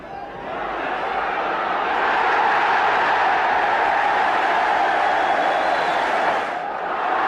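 A near 10,000-strong rugby league crowd at Craven Cottage roars in a sustained, swelling wall of cheering that builds after the first second and holds loud before easing slightly near the end.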